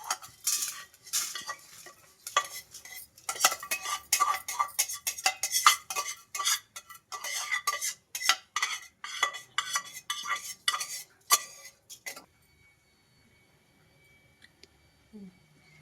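Metal spoon stirring and scraping fried sesame seeds and other ingredients in a pan as they are transferred into a vessel, a busy run of close clinks and scrapes that stops abruptly, leaving near silence.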